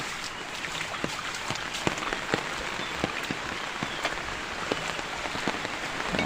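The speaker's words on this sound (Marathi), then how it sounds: "पाऊस आला बारीक बारीक" Light drizzle in a Konkan village patters steadily on a surface, with scattered individual drops ticking close by over a soft continuous hiss.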